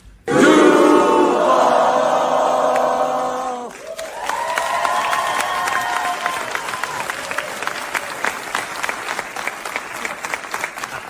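A stadium crowd in Jacksonville roars and chants Duval for new Jaguars head coach Liam Coen, loud cheering and applause with rising shouts, then a sustained clapping rumble that continues to the end.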